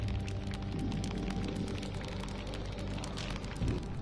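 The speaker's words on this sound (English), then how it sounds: "As rain tumbles heavily over them" Heavy rain pours in the game Burly Men at Sea, a dense, steady hiss and patter that stays loud and unbroken, with no voices over it.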